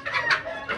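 A hen clucks in short, close bursts, three quick rasping calls in under a second, fairly faint against quiet surroundings.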